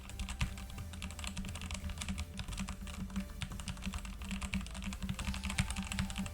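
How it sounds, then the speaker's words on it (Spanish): Steady, soft clacking of keys typed on a Redragon K552 mechanical keyboard with red switches, rapid and even, close and fairly quiet with no voices. "Y ahora una escritura un poco más suave"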